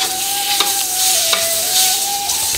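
Sliced pork belly frying in a hot iron wok over high heat, a loud continuous sizzle with a steady faint whine and a few soft stirring scrapes.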